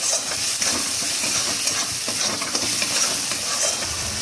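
A spice paste sautés in a pan with a loud, constant sizzle, while a spoon scrapes and stirs in repeated strokes, close and dense throughout.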